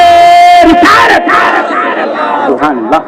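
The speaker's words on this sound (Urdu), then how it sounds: "نعرے تکبیر، نعرے رسالت" A large crowd at an Eid Milad un-Nabi religious gathering chants the Islamic slogans Takbir and Risalat in loud unison, a sustained roaring call that swells and breaks into scattered shouts.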